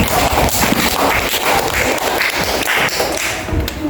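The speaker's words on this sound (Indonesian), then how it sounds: "Ayo kasih tepuk tangan yang luar biasa nih buat Bapak" Students in a classroom clap together for their teacher, a dense burst of close, loud applause lasting a few seconds with no talking over it.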